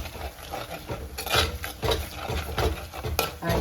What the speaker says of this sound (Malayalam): നിങ്ങളതുകൊണ്ട് അതിനെ നല്ല വേദനിപ്പിക്കാണ്ട് ഇളക്കിക്കൊള്ളൂട്ടോ ഗൈസ്